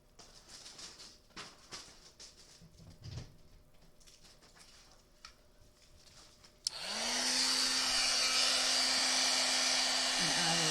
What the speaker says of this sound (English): Now let me grab my embossing tool.